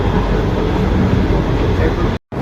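The Shalimar Express, running at speed on the ML1 line from Lahore to Karachi, gives a loud, steady rumble and roar heard from inside the train, which cuts out abruptly for a moment just before the end.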